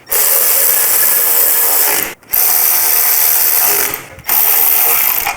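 A hand ratchet clicks rapidly and loudly up close while tightening a nylon locking nut on a carbon fiber shorty front motorcycle fender, in three long runs of clicking separated by brief pauses.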